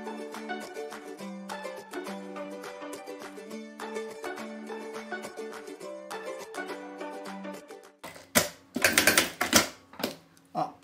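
A sewing machine runs a safety seam fastening fabric to a zipper, giving fast mechanical stitching in several close bursts with short pauses, followed by louder handling clatter and rustling at the end.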